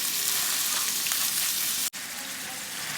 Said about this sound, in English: we are going to brown the beef